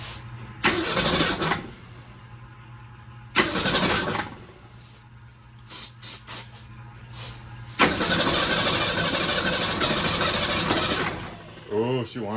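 A 1966 car engine, primed with carb cleaner, cranks in several separate bursts of starter whir before catching and running roughly for a few seconds, loud and close, with a brief voice near the end.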